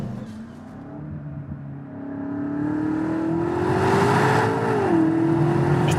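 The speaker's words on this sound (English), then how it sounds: "It doesn't sound like a 625 horsepower M car, the fastest, most powerful M car ever built." Engine of a 2020 BMW M8 Competition, 625 horsepower, heard from inside while driving: a steady, muted drone that rises gradually in pitch as it accelerates, then drops briefly and holds, with no talk.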